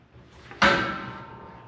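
Stiff drawer of a Vulcan welding cabinet and cart from Harbor Freight sliding shut, a single sharp metallic clunk followed by a lingering ringing resonance that slowly fades, close and fairly loud with no talking.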